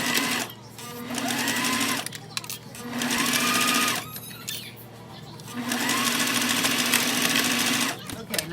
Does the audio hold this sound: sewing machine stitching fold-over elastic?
yes